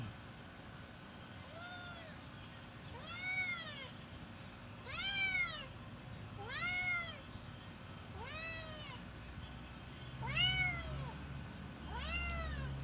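An injured cat meows repeatedly, about seven plaintive, rising-and-falling cries spaced a second or two apart, fairly quiet against a low background rumble.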